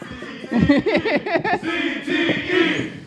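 A studio audience at a comedy podcast's season finale chants "CTE" in unison, a rowdy, rhythmic group shout of several quick bursts followed by sustained cheering.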